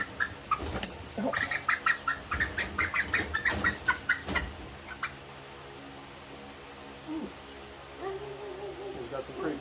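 Juvenile chickens cluck and chatter on moving day, in a burst of close, rapid calls that then thin to sparse sounds, with a person talking nearby.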